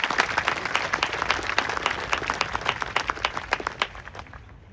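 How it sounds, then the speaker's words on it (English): An audience at an Australia Day celebration of Gaddigal culture claps together, steady applause that thins into scattered claps before stopping. "I think they deserve another round of applause."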